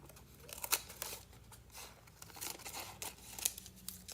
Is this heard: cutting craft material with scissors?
yes